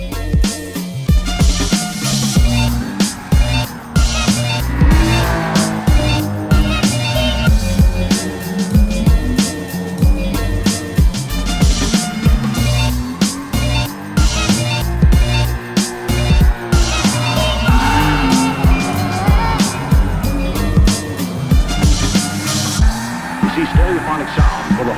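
A 1988 Toyota Supra drifts in Gran Turismo Sport, its engine revving hard and tires squealing continuously through loud, sustained slides with constant gear and throttle changes.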